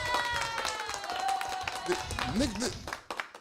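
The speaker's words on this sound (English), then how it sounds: "I got live applause" A burst of canned applause played live on a casual talk show, a busy patter of clapping under loud overlapping talk and laughter, fading toward the end.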